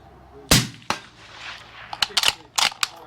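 Several .223 rifle shots from a Uintah Precision UPR-15 striking distant targets at a long-range setting, heard as one sharp loud crack followed by a softer one, then a quick irregular cluster of sharp reports.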